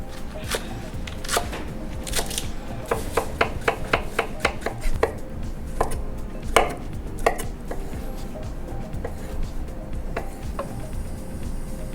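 Meat being tenderized on a board: a rapid, irregular run of sharp knocks and taps, close and steady for several seconds, with no talking.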